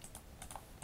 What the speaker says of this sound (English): I hope you guys don't hear my keyboard that loud.